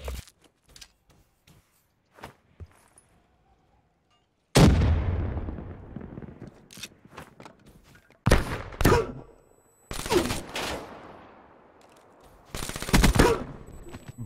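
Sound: gunfire in a shooter video game

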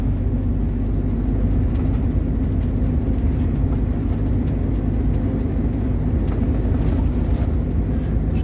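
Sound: truck engine accelerating, shifting from 11th to 12th gear

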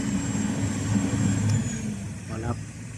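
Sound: Cat 323GX excavator Perkins C4.4 engine revving

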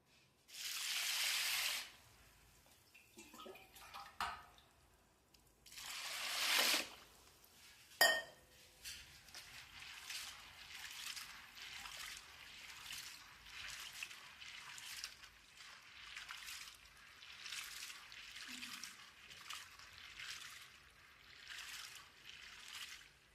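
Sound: washing sago pearls in water

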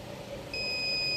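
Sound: multimeter beeping in buzzer mode while testing phone ringer

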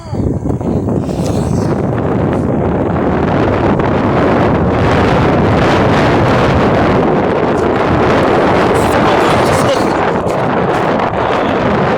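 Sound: wind blowing on moving electric scooter

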